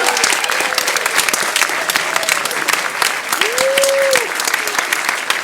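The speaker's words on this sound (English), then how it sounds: "please give another round of applause to our marvelous music director, Mr. Stephen Halsey." An audience at an evening singing concert applauds loudly and continuously, with dense clapping filling the space while a voice sounds faintly beneath it.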